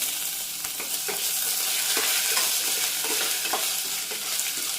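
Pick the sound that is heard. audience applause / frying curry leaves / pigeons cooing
frying curry leaves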